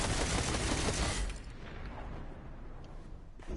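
The Skyburner's Oath weapon fires a dense, loud rapid volley in Destiny 2, then drops to quieter scattered shots and rumbling impacts in the game's combat.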